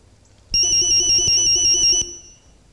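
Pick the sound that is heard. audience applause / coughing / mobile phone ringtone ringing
mobile phone ringtone ringing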